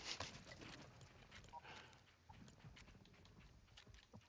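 A horse clip-clops in the LEGO Fortnite Odyssey video game, a quick run of soft hoof taps mixed with game effects, fairly faint and lasting a few seconds.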